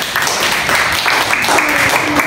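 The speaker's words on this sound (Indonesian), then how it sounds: "Beri tepuk tangan Karina" A classroom of pupils clapping for a classmate named Karina after she answers during a lesson, a brief, fairly loud patter of hands, with some voices mixed in.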